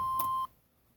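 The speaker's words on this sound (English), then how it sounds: "let me turn this damn buzzer off" Warning buzzer on a 2002 Damon Daybreak motorhome gives one steady electronic beep lasting under half a second, then cuts off to quiet.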